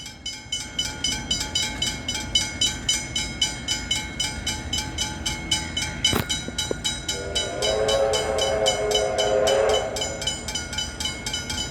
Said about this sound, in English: All right, steam train ahoy!